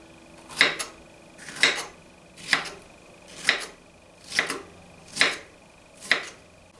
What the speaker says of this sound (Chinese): 切成小块。